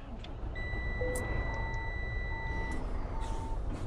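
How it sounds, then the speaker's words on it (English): A heavy truck reversing in Euro Truck Simulator 2 gives off steady, evenly spaced backup beeps over a low engine rumble, with a brief air-brake hiss near the end. "let's just back it up here a little bit"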